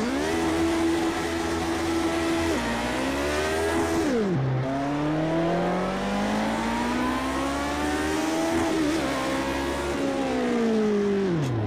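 A race car engine in Project Cars 2 roars loud and close. It climbs steadily through the revs, drops sharply at each gear shift and builds again, with no voices over it.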